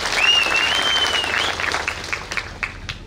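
An audience at a temple festival's religious programme claps in a loud, dense burst of applause that slowly thins out into scattered claps, with a faint voice briefly heard underneath.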